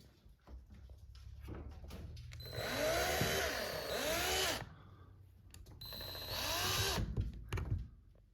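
Power drill driving small screws into an ARPHA AL301K keyless entry door lock, two sustained whirring bursts with brief pauses between, close and loud over faint handling noise.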